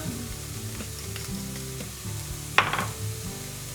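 Garam masala and turmeric toast with softened onion in a pan, a steady close sizzle with a sharp scrape of stirring near the middle, no voices.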